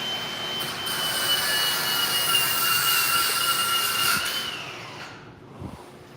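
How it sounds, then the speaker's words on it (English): Train passing on a nearby railroad line, a loud rolling rumble with high metallic wheel squeal held for several seconds, then fading away as it moves off. "That's the train."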